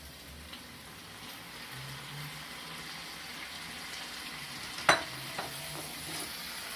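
Tomatoes go into a pan of sizzling dry herbs for red snapper Veracruz, a soft steady frying hiss with a brief clatter as they drop in.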